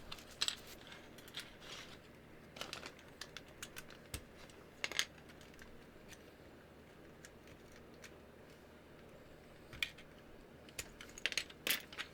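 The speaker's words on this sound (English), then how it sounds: "Let me just swap these last two keycaps." Plastic keycaps click and clatter faintly on a keyboard as they are swapped, with scattered small taps and snaps over a quiet room background.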